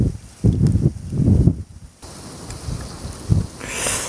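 Wind gusts across a crucian carp fishing spot at thaw, buffeting the microphone in uneven low rumbling bursts with a brief lull, close and fairly loud, no talking.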